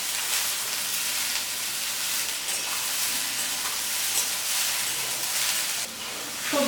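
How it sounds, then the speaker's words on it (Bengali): Potatoes, carrots and capsicum frying with browned onion in a pan, a loud, steady close-up sizzle and hiss with occasional stirring scrapes, continuous throughout with no talking. "সবজিগুলো ভাজা হয়ে গেছে"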